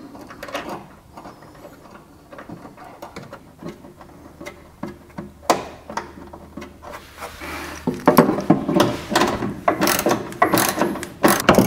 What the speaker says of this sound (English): I've got a wrench on it so that it's not moving and we can just tighten it from down here